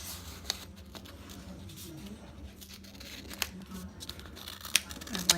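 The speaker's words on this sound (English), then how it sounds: "Actually, I think I'm just gonna cut this" Scissors cutting open the top of a subscription box package: quiet, intermittent snips and faint crinkling close by, with a few sharp clicks of the blades amid soft handling noise.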